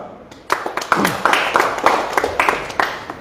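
An audience at a BJP joining event in Jammu and Kashmir breaks into clapping to welcome a guest, a burst of moderately loud applause with a voice faintly underneath.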